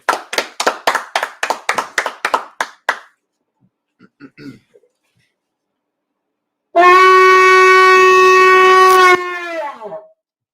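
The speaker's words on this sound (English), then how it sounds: "clap it up" A church congregation at a Sabbath service claps in a quick run of about a dozen sharp hand claps for roughly three seconds, followed by a few soft taps, then a long, loud sustained tone that cuts off.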